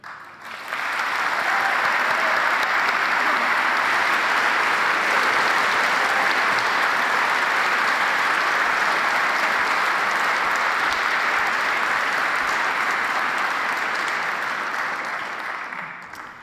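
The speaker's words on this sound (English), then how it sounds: "that was a huge round of applause that you received from the audience here" A crowd of around 200 people in an auditorium at the Edinburgh International Book Festival giving Noam Chomsky a long, loud, sustained round of applause that holds steady for over fifteen seconds before easing slightly.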